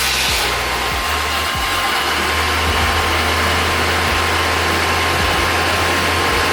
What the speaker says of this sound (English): start the car, and hopefully it's good.